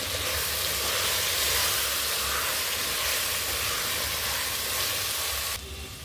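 Mutton biryani masala with a handful of coriander and mint being stirred in a cooker, giving a steady close sizzle and scraping hiss that runs throughout and drops slightly at the very end.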